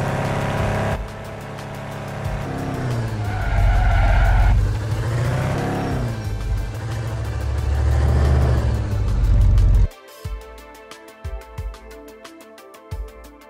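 Driving sounds from a car simulator built in Unity using RCCP demo vehicle resources: a loud, steady engine drone with revving swells and tyre squeal for about ten seconds, then an abrupt cut to quieter, sparse clicks and thumps.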